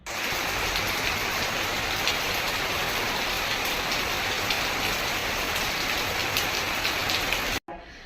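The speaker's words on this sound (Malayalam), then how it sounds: "നിങ്ങളുടെ ഭാഗത്തൊക്കെ മഴയുണ്ട ഇതുപോലെയാണ് തൃശ്ശൂർ ഭാഗത്ത് പെയ്യണത്" Heavy rain pours steadily in Thrissur, Kerala, a dense, loud, continuous hiss that ends abruptly.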